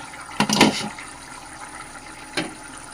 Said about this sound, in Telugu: ఒకసారి అయితే తెద్దాము చింతపండు రసం అయితే యాడ్ చేసుకుందాము